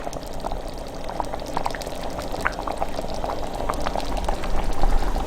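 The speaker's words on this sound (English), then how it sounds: "get your ladle, and get some broth" Broth ladled from a bubbling pot into a bowl of flour for chicken à la king, a continuous close liquid splashing and gurgling that swells slightly toward the end.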